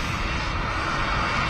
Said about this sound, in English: we got a great view here of another BizJet just on the taxi out